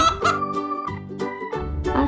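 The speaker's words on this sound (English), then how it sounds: "A chicken say cluck." A chicken clucks in a quick series of short, throaty calls set against light background music.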